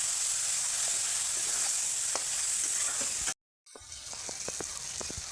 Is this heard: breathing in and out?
no